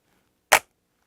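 A single sharp snap of a flintlock frizzen being struck on an Indian-made musket, loud and close, with silence before and after.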